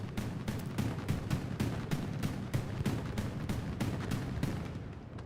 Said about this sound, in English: Bombing runs coming in.